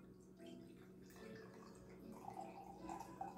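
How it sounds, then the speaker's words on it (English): Sweet apple wine trickles faintly into a glass, a soft liquid pour with light splashing and no talking. "Let's go ahead and pour."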